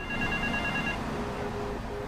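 A payphone rings in the video game GTA III, a steady electronic ringing tone repeating over a dense murmur of game ambience and traffic noise.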